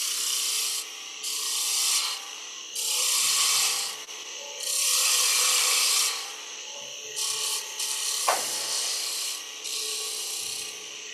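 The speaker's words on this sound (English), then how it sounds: "I'm going to grab my parting spindle gouge and just kind of create a chamfer for the whole thing here" A spindle gouge cuts a chamfer on wood spinning on a lathe, making scraping, rasping passes in several separate bursts with short quieter gaps between them, close and fairly loud.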